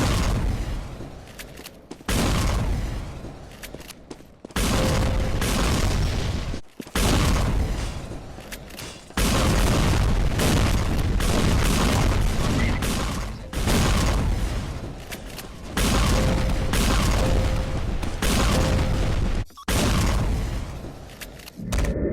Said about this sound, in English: And so now I think it's only time if I do a rocket jumping montage